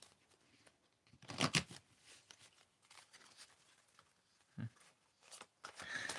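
Playing cards are shuffled close by and quietly, in a few short riffling bursts with soft handling noises between them.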